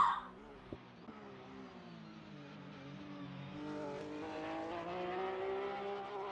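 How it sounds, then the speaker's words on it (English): Porsche race car in a racing sim lapping Bathurst, a steady engine drone that rises in pitch and builds gradually as it accelerates, moderately loud and heard alone. "that Porsche is not an easy car to get around this track"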